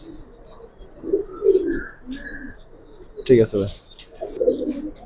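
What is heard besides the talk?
Giribaz and coloured pigeons cooing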